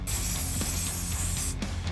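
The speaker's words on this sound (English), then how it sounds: "I'm not spraying directly onto the surface" Spray paint hisses steadily from a can during a cosmetic modification on an Audi A3, a constant close spray with a couple of brief clicks near the end and no speech.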